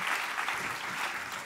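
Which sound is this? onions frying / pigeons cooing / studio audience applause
studio audience applause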